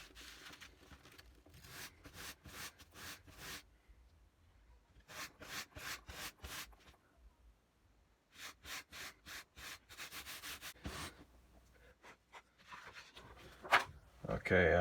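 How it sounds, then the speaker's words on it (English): Hand sanding of a carved wooden jerkbait fishing lure, heard as repeated bursts of close, rhythmic scratchy rubbing strokes in three runs separated by short pauses, with a brief knock near the end. "So now I'm going to be sanding that down so it's a lot smoother."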